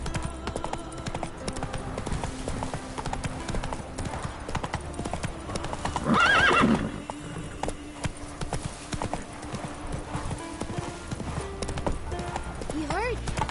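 Roach, a horse in The Witcher 3, gallops with rapid rhythmic hoofbeats throughout, a whinny rising midway, under game music and brief voices.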